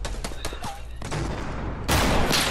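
Video game gunfire during a trick shot: a few quick sharp cracks early on, a pause, then a louder, denser burst of shots near the end.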